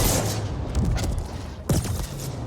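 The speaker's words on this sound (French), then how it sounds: "je peux le détruire comme ça, en levant mon flingue" Gunfire from a raised weapon in the video game The Ascent comes as two loud, booming bursts over a dense game soundscape, the second sharper than the first.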